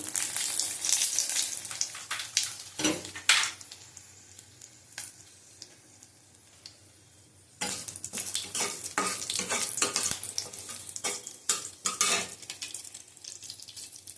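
Bay leaves and dried red chilies sizzle in hot oil for chana dal, with a steady frying hiss, a break midway, then renewed crackling and repeated stirring scrapes of a utensil against the pan.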